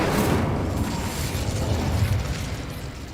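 Spell blasts from Confringo and Incendio in Hogwarts Legacy, a dense roaring burst of fiery energy sustained at steady loudness throughout, with no talking over it.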